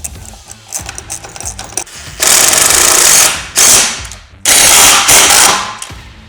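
A wrench tightens lock-nut bolts on a Holman Clamp & Lock ladder rack being fitted to a RAM ProMaster City van, making loud, close ratcheting bursts in several runs of about a second each, separated by quieter clicks and handling noise.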